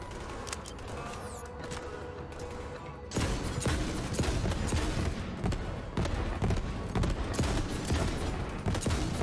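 Echo blaster gun in the Borderlands 3 video game firing in a fast, dense burst of repeated shots that begins about a third of the way in and carries loudly to the end, after a quieter stretch of game sound.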